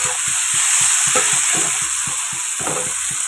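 Whole cumin seeds and bay leaves sizzle loudly in hot oil, a steady close crackling hiss with rapid popping bursts and no voices.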